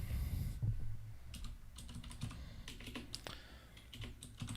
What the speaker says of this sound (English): Oh, look at me trying to type in the wrong place.